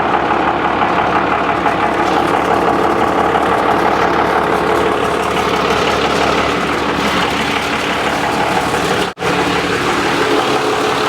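A Dodge Cummins diesel truck engine, abandoned in the desert, idles steadily at close range. Its dense, continuous rumble carries on unbroken and ends with one abrupt brief dropout near the finish.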